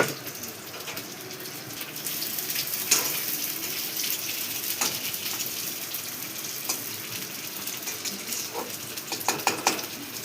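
Onions frying in very little oil for Maggi noodles in a home kitchen give a steady, moderately loud sizzle with occasional clinks and scrapes from stirring.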